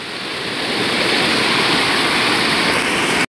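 A raging mountain river in flood, a loud, continuous roar of churning water with no let-up until it cuts off abruptly at the end.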